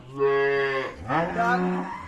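A dairy cow at a cattle market sold with its calf gives one loud, close, drawn-out moo with a second rising call, heard on its own.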